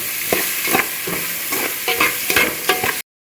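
Onions sauté in oil for a fish and brinjal curry, with a loud, close sizzle broken by a regular rhythm of spoon scrapes and stirs. The sound cuts off abruptly at the end and no one speaks.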